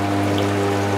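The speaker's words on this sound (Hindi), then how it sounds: "ये गर्म पानी डाल दिया" Hot water pours into a digital ice cream maker, giving a brief, steady splashing rush over a constant low machine hum, close and fairly loud.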